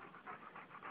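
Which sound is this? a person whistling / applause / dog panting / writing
dog panting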